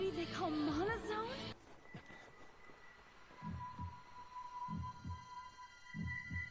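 Repeated paired heartbeat thumps from a Black Clover anime scene, low and throbbing, arriving in steady double pulses over a soft hum after an opening burst of sound.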